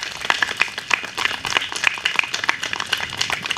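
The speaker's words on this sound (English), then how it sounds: "Let's give Republic a round of applause." Audience clapping at a junior golf program event in Tobago, a modest scattering of hand claps in an uneven rhythm, moderately close with no talk over it.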